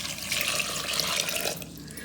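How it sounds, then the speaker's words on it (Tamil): Water pouring into a pot while making tomato soup, about three cups' worth, a steady splashing rush that holds for about a second and a half and then eases off, close and fairly loud. "நான் 3 கப் அளவுக்கு தண்ணி ஊற்றுறேன்."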